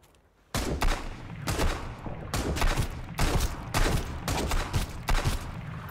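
Sniper gunfire in the survival game Sunkenland: after a quiet start, a dense run of loud, repeated shots and crackling bursts fills the scene, coming in rapid clusters with no one talking.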